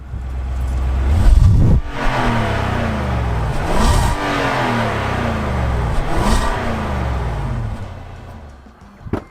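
A 5.6-liter V8 engine of a large SUV revs repeatedly through a throaty exhaust, rising and falling in loud, close pulses with a deep rumble between them.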